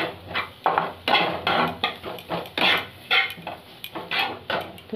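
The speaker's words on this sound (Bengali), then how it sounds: "ভালো করে মিক্স করে নেবো আমি জিনিসটাকে একবারে" Maggi noodle mixture stirred in a pan over low flame, a utensil scraping and clacking against the metal in a steady series of close, rhythmic strokes with no voices.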